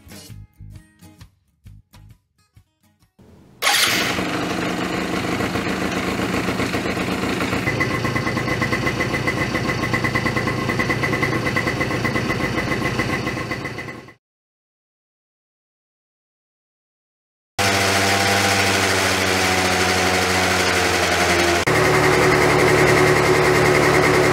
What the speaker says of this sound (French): On va comparer le bruit que fait le scooter avec le kit Polini